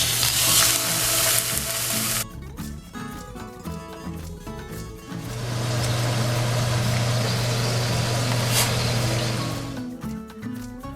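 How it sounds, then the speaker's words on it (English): Ground meats with onion and garlic fry in a large skillet, giving a bright, crackling sizzle that drops away for a few seconds and then surges back steady and loud, with a low hum underneath. "I'm going to add the meats and onion and garlic and cook them"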